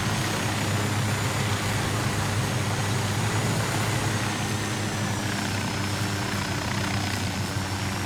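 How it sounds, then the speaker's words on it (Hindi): Helicopter engine and rotor in Ghost Recon Wildlands, a steady loud whine and rotor drone running without pause, close and alone. "तो मैंने यहाँ पे अपना पार्क कर दिया है हेलीकॉप्टर"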